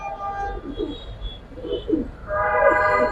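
Gribaz and racer pigeons coo in soft, repeated throaty calls at close range, with a brief murmur of voices between them.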